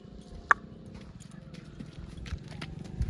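A mare carries a rider at a walk, her hooves clip-clopping faintly and unevenly on the ground, with one sharper knock early on against a quiet outdoor background.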